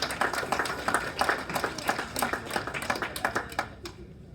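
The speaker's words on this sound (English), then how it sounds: "You can clap too." A crowd claps at a girls' high school soccer banquet, a steady patter of many hands that carries on for a few seconds and then thins out and stops.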